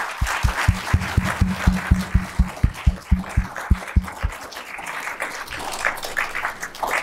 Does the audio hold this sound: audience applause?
yes